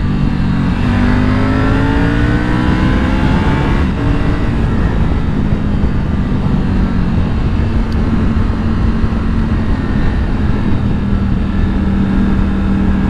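A Yamaha Tracer 9 GT or Triumph Tiger 900 motorcycle engine climbs through the revs, a loud, close, continuous roar with rising pitch that eases and then holds steady.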